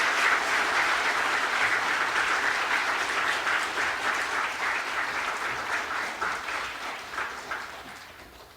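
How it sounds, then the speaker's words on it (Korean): A church congregation claps warmly for newly baptized members at a Christmas service, dense sustained applause that fills the room and slowly tapers toward the end. "성도님들께서는 박수에 환영해 주시기 바랍니다."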